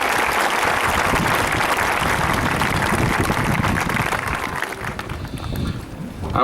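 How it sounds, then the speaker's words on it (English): Sustained applause from a graduation ceremony crowd for the class of 2015 speakers, a dense, steady roar of clapping that fills the space and eases slightly toward the end. "Let's give all of our speakers one more big round of applause."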